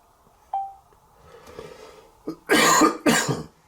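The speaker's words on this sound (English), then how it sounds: "Usually I would edit out coughing." A couple of harsh, close coughs from a tickle in the throat, preceded by a brief throat noise, from a single person in an otherwise quiet space.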